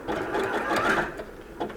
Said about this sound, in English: I'm just going to use zigzag just to prove that you can do it on any machine.